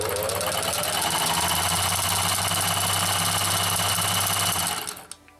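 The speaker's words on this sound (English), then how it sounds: "This made the machine noisy and less smooth." A Singer 286K vintage sewing machine with a rack and pinion drive runs noisily, a loud continuous rattling, humming mechanical whir that winds down and stops near the end.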